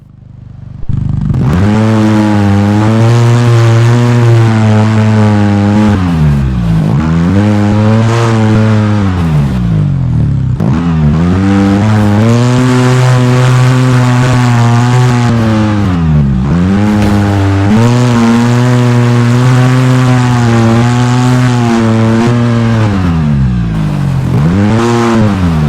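A simulated off-road vehicle engine in the Overpass driving game drones steadily and loudly throughout, its pitch climbing and dropping repeatedly as the throttle is worked, with no talk over it.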